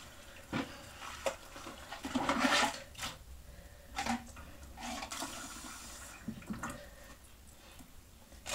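Water running and splashing over a bar of soap, with scattered drips and sloshing bursts at a moderate distance, fairly quiet overall.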